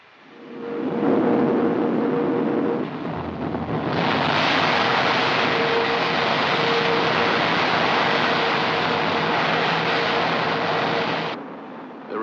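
A rocket lifts off in archival film, a loud, sustained broadband roar that swells heavier a few seconds in, holds steady and close, then cuts off abruptly near the end.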